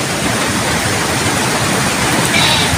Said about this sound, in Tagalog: Sobrang lakas ng ulan ngayon.